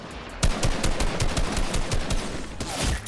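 Rapid bursts of gunfire in a sniper-versus-runner video game, loud, sharp shots rattling in quick succession for several seconds with no talking.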